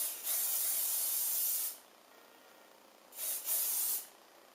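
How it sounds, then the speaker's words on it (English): Two bursts of hairspray hiss close by while styling hair, one long spray followed after a pause by a shorter double puff. "just spray that side all into place"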